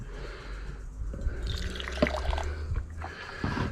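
Water washes poured over natural gold in an acid refining process, a quiet trickling splash with scattered drips and small liquid sloshes, close and low in level.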